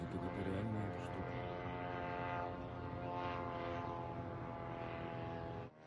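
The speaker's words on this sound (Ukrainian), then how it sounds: "Качинообразні безпілотники пролітають небом російської столиці." A steady propeller-like engine drone from an attack drone passes overhead in Moscow, loud and continuous for several seconds, with faint voices underneath, then cuts off abruptly at the end.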